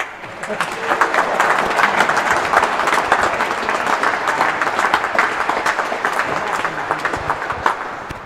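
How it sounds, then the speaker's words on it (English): A crowd at the Real Tennis British Open doubles final at Queen's Club gives loud, sustained applause, dense clapping that holds steady throughout with faint voices underneath. "Applause."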